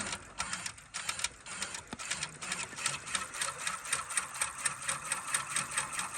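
An embroidery machine stitches a zigzag outline for a fitness logo, a fast, even rhythmic chatter of needle strikes running throughout at moderate, close level.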